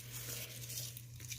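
Dry hay crumpled by hand and stuffed into a hay net gives a soft, steady crackling rustle, quiet and close, over a low constant hum.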